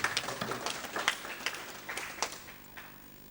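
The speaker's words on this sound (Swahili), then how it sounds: "Makofi kwa hawa wa viongozi." Audience applause for religious leaders at a convocation, a quiet patter of scattered claps with sharp bursts that fades toward the end.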